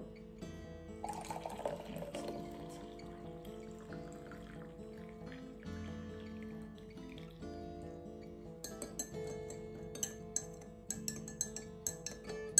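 Hot thyme infusion is strained and poured into a cup, a steady trickle of liquid with light clinks of glass or metal and small drips toward the end, quiet and close.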